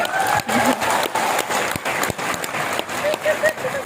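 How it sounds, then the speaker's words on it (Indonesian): An audience claps for a speaker's mentor at a direct-selling success story event, a moderate, uneven patter of hands with some talking and cheering mixed in. "Tepuk tangan untuk Mbak Supriyanti."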